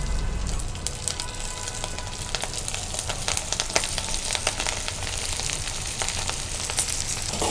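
Basmati rice and paneer balls dropped into hot oil fry with a dense, steady crackling sizzle, bright and continuous from start to finish, close by, with scattered sharper pops and no voices.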